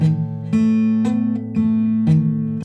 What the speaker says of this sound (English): If I wasn't pressing a string down properly, it would sound like this.